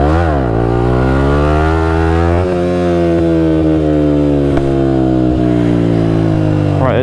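A 125cc four-stroke motorcycle engine drones loudly and close while held at steady revs during a wheelie, its pitch rising briefly at the start and again at the end, with no voices.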